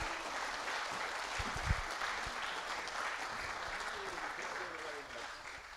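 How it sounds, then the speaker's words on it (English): Conference audience applause at a gathering held in a gallery, a fairly quiet, steady spread of clapping from a crowd, with a couple of low thumps near the microphone and some voices underneath. "Big applause for him, please."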